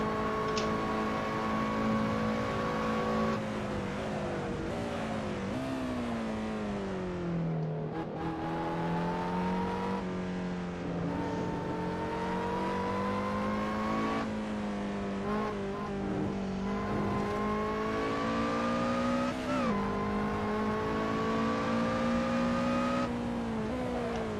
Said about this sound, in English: Can't say I like the sound of this car very much.